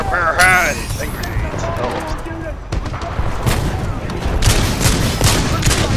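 Heavy gunfire from a big gun in a modded console shooter match, with rapid bursts and booming shots layered over loud game effects and continuous voices talking throughout.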